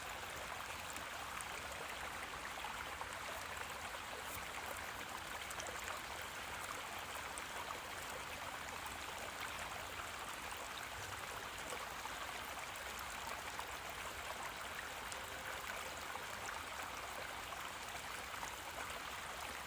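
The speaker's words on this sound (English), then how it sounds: "Can you hear the brook beside me?" A brook flows beside the listener outdoors, a steady soft rushing and trickling of water that stays even and unbroken throughout, moderately faint and with no voices.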